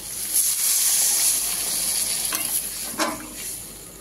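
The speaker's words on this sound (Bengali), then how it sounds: "হয়ে গেছে আমার কষানো, দিয়ে দিচ্ছি আমি জল।" Water is poured into a hot pan of sizzling okra and potato curry for rui fish jhol, a steady loud hiss and sizzle with a brief sharper surge of steam near the end; no voices.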